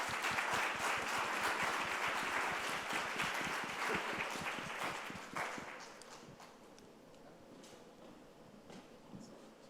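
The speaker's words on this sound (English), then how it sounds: "Give yourselves a round of applause." A crowd at a Black Lives Matter Day morning session gives itself a round of applause, dense clapping that gradually thins and fades to scattered claps and room noise after about six seconds.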